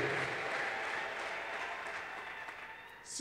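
A congregation claps loudly and steadily in a dense, continuous burst of applause that fills the room, sustained for several seconds and easing slightly near the end.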